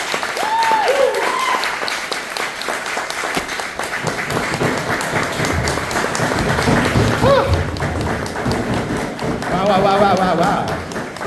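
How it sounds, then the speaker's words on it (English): Sustained crowd applause at a poetry night fills the whole stretch, loud and steady, with a voice speaking over it at moments. "Thank you for the thundering round of applause."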